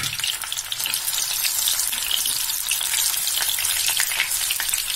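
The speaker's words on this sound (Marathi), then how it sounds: "आपले बटाटे ते फ्राय करून घ्यायचे" Potatoes fry in plenty of hot oil with a loud, dense, continuous crackling sizzle that holds steady throughout, with no voices.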